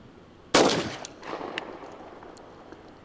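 A single sharp, loud gunshot from a Colt Gold Cup National Match .45 Auto pistol, fired close by, followed by a short echoing tail and a few faint clinks.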